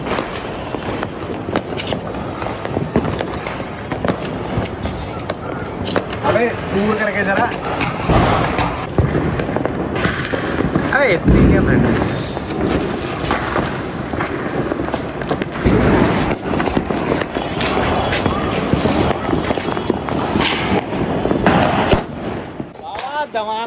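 Crackling bursts and pops of Diwali firecrackers go off repeatedly over a noisy outdoor background while people talk loudly.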